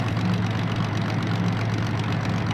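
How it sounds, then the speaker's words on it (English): A DM3 diesel locomotive engine in the train simulator game Derail Valley, hauling a heavy freight load, idling down in a steady low droning rumble with a faint rhythmic knock, continuous and close. "you can really hear the engine is slowing down"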